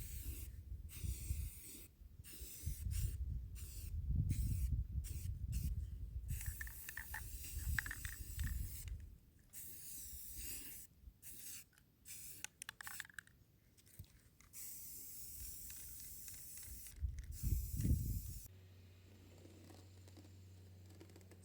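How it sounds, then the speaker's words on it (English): Rust-Oleum chalked chiffon cream spray paint from a nearly empty aerosol can hisses in many short, uneven bursts at close range onto an egg box, some spurts sputtering, with quiet gaps between. "and then I can start spray painting with my colour"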